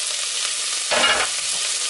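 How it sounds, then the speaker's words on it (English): Steady, loud sizzling of food frying in a pan, with a brief stirring scrape in the middle; no voices. "Yeah, we finally get a sizzle going."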